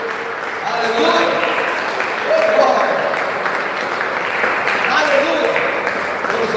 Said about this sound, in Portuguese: Se você crê, dá um glória a Deus e aplaude a Jesus Cristo.